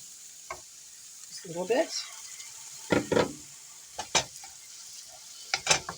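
Ingredients being stirred and mixed with a utensil in a sizzling pan: several short, close scraping strokes come in bursts over a steady frying hiss, with a brief spoken phrase partway through.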